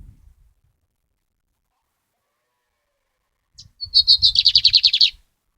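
A lined seedeater, or bigode espoleta, gives a brief chirp after a long silence, then launches into a fast, loud, closely recorded trill of repeated sharp notes lasting over a second.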